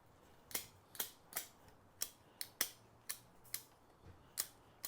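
A swamp cypress bonsai is trimmed with scissors: about a dozen crisp, close snips at an uneven pace over a quiet background.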